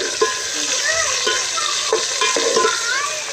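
Onion, green chili and tomato fry in ghee in a cooking pot while a spoon stirs them, making a bright, steady sizzle broken by several scraping strokes and light clinks, close and with no voices.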